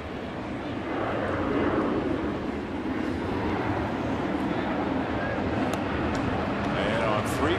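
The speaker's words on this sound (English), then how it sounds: "Do you think the audience hears the airplane right now?" Airplane flying over a baseball stadium during an Atlanta at New York Mets game, a steady broad engine roar and rumble sustained throughout with wind-like noise and crowd ambience.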